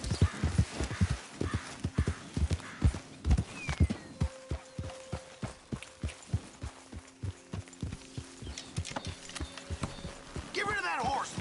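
Horse hooves gallop in Red Dead Redemption 2 in a steady, driving clip-clop rhythm close by, while voices talk over the hoofbeats and a held musical tone plays underneath.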